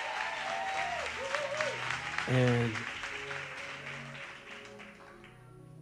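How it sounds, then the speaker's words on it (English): Church congregation applauding during a sermon, a dense wash of clapping under a preacher's amplified voice, with organ or keyboard tones sounding underneath. "Clap your hands for elders"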